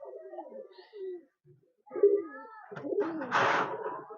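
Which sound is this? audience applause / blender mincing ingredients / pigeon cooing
pigeon cooing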